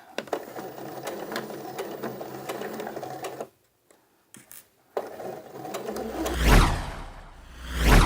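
A sewing machine stitching the side seams of an A-line skirt, a fast rhythmic needle clatter that stops briefly for a few quiet seconds, then starts again alongside fabric rustling and handling noise.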